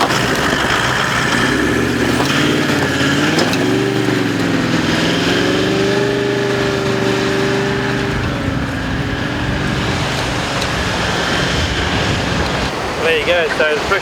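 A vehicle engine pulling away on beach sand in second gear, heard as a loud rising and falling engine drone under heavy wind and surf noise.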